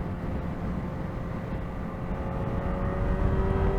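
A 2024 Kawasaki Ninja ZX-4RR motorcycle engine at full throttle, a steady, loud, sustained whine that rises slightly toward the end, heard alone over a broad road and wind roar.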